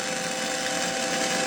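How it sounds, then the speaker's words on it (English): Angle grinder working a worn car exhaust to clean up the metal, a steady, loud high-pitched whine with gritty broadband noise running throughout, no pauses. "Little grind to clean it up."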